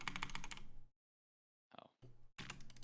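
A computer keyboard clatters in quick bursts of key presses, broken by a sudden stretch of silence and then resuming, near and moderately loud.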